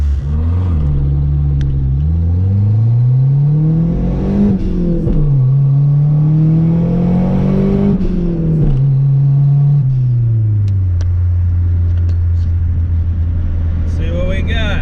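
A Chrysler Conquest accelerates hard from 0 to 60, its engine note climbing through the gears with audible shift dips and rising again, loud and close from inside the car.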